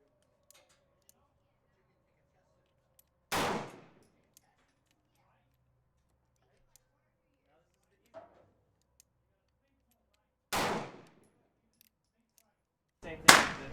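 Colt Walker revolver firing .45 Colt, three loud, sharp gunshots spaced several seconds apart, each with a short echoing decay, plus a faint click between shots in an otherwise quiet range.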